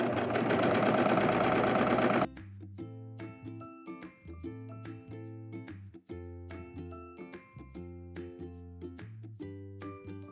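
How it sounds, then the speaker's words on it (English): A sewing machine stitches the side seams of a slip dress, right sides together. After a brief burst of other sound it runs in close, steady stitching runs with slight pauses, and no talk is heard. "Now we want to place these right sides together and sew up this seam."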